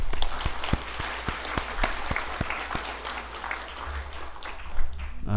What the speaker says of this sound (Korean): 축하의 박수 부탁드리겠습니다